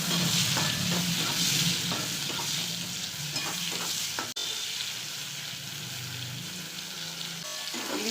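Small hilsa fish seasoned with turmeric and salt fry in hot oil in a pan, giving a loud, continuous close sizzle with a few bubbling crackles throughout.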